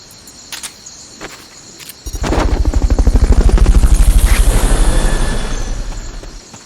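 A video game helicopter's rotor thumps rapidly and loudly for several seconds after a couple of faint clicks, then cuts off abruptly, in Metal Gear Solid: Peace Walker.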